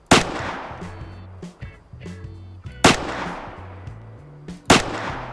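Three loud rifle gunshots in the hunting video game Way of the Hunter, each a sharp crack with a decaying tail, evenly spaced roughly two seconds apart over low in-game ambience.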